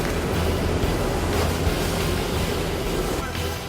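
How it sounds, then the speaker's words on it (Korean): A fishing boat out hunting hairtail is battered by raging sea waves in strong wind, a loud, continuous roar of surf and gusts that carries on without a break. "갑자기 강한 바람에 배를 집어삼킬 듯 성난 파도가 쉼없이 휘몰아친다"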